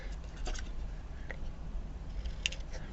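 Paper is chopped into small ruler strips with scissors, making a few sparse, quiet snips close up, with one brighter cut near the end and no talking.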